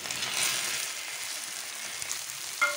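Prawns go into a hot pan and sizzle with a bright, hissing fry that swells at first and then holds steady, close up, ending with a small clink.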